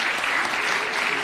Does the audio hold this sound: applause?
yes